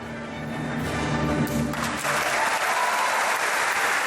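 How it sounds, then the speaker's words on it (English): Audience applause after a performance of Beethoven's 9th Symphony by the Bakhytzhan Baykadamov State Chapel Choir, before an Indian public: a loud, dense wash of clapping that swells and holds steady throughout, with a fading sustained musical tone underneath at first. "The performance received a storm of applause from the grateful Indian public."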